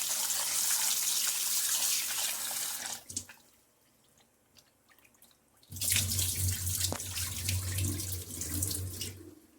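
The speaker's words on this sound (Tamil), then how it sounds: "இப்போ மறுபடியும் இன்னொரு டைம் கழுவிட்டு மீன் சேர்த்துக்கலாம்." Fish washed under a running kitchen tap, a loud gushing splash of water into a sink that stops for a few seconds of quiet handling and dripping, then resumes just as strongly; no talking.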